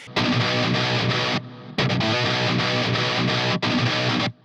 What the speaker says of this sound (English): That is a delay that then gets fed into this reverb engine that we have